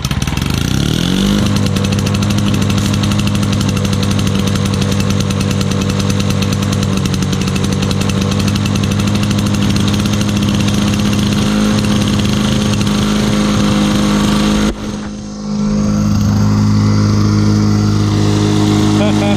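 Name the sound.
lawn mower engine starting up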